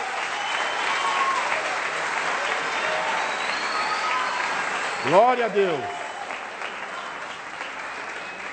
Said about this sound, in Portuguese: Dê um aplauso a Ele nessa noite.